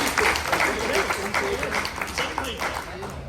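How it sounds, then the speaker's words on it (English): Crowd applause fills a Comic-Con panel room at San Diego for a Blade Runner comics deluxe edition, a dense, steady roar of many hands clapping throughout with a voice faintly mixed in. "let's give it a round of applause"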